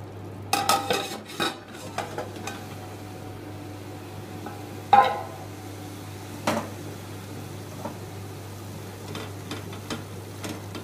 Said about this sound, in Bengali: এই মশলাটা হালকা একটু কষিয়ে নেব